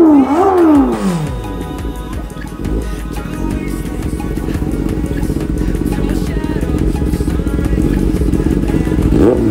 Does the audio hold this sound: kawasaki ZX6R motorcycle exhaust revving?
yes